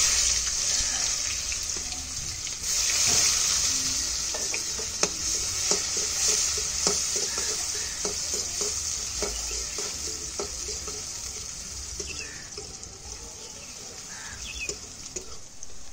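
Chopped onions sizzle and fry in a pan of hot oil with whole garam masala, a steady crackling hiss with scraping stirs and light clinks throughout, no talk.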